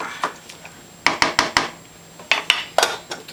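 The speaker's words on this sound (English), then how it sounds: "put the lid on" A metal lid with an adjustable vent goes onto a soup pot, producing a series of sharp close clinks and clanks in quick bursts, with short pauses between them.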